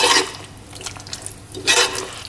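Chickpeas tossed with olive oil in a pan, making wet squelching stirring sounds in two louder bursts with a quieter shuffle between them, close by.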